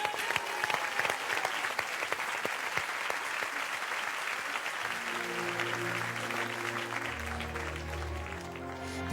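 A television studio audience applauds the singer with dense, steady clapping that carries through, then low piano-like music notes enter under the fading applause toward the end.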